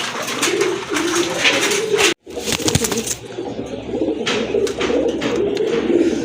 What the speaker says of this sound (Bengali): বিগ সাইজের এক জোড়া কবুতর খুবই বড় সাইজের কবুতর